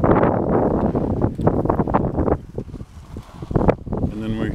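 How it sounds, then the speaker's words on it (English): Wind swooshing around a homemade wind-powered rock tumbler outdoors, a loud, continuous gusting rush that rises and falls, buffeting the microphone, with a brief voice near the end. "Swooshing noise."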